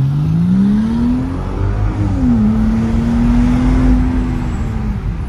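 A Volvo XC60 with a newly fitted sport exhaust runs close and loud, its engine note climbing in a rev, dipping, then holding a steady droning hum over a rumbling low end.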